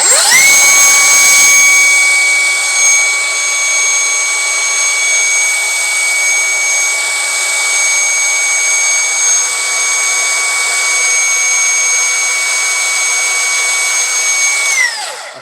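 A cordless angle grinder fitted with a 230 mm disc spins up and runs at a high, steady whine for about fifteen seconds, then winds down. It is loud and close, with no talk.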